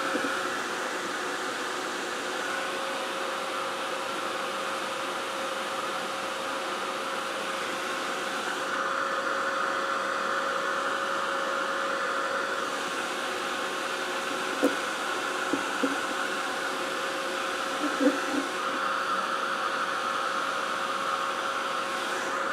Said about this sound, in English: So I'm going to get the heat gun and